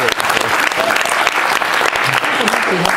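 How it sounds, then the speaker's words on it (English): A workshop audience at an anime convention acting session claps for a participant named Nicole, a loud, continuous burst of applause with crowd noise mixed in and some voices talking over it. "Give Nicole a round of applause."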